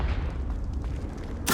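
Confringo fire spell explodes in Hogwarts Legacy, a sudden loud blast bursting in at the very end after a stretch of low, quiet rumbling.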